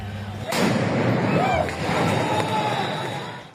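A police sound grenade thrown to control a crowd goes off as one sharp, loud blast. Crowd noise and shouting follow and continue in the background.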